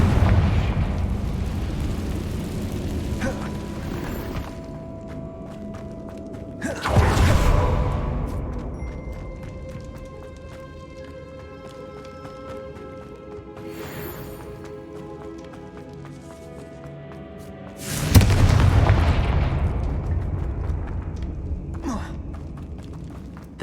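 Confringo blasting spell in Hogwarts Legacy, heard as two loud booming explosions spaced well apart, each a sudden broadband burst that slowly decays amid ambient game music and tones.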